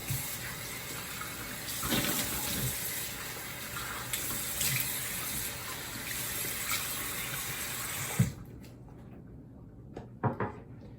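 Tap water runs steadily from a faucet into a sink while someone rinses off after a wet shave with a Bakelite slant safety razor, then cuts off, leaving a few faint clicks and splashes.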